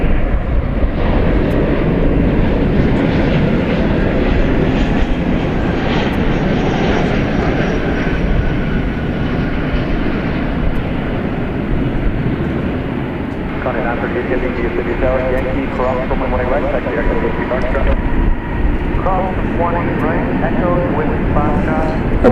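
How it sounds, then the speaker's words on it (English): Delta Airbus A321 jet arriving at night at Dallas Fort Worth International Airport, its engines a loud, sustained roar heard from nearby, with a person talking over it throughout. "Let's deviate here for a second and catch a Delta flight coming in."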